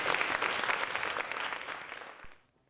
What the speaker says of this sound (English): Would you all give Bob Korzeniewski a big round of applause?